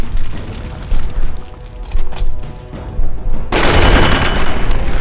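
Loud assault rifle bursts and booming impacts in the video game Fallout: Tale of Two Wastelands, with several sharp volleys in the first half and a sustained, heavier roar of fire at the end.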